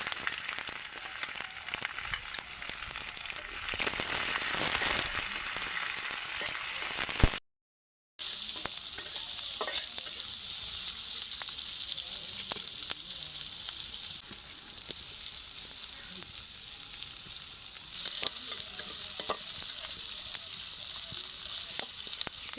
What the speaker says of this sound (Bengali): পেঁয়াজটা ততক্ষণ ভাজবো যতক্ষণ না পেঁয়াজটা বাদামি কালার হয়ে আসে।